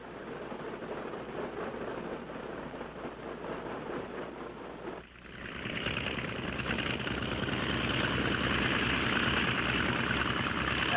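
Steady droning engine of a propeller aircraft taxiing to the warm-up block, heard continuously from inside, briefly dipping around midway before swelling back louder and brighter for the rest.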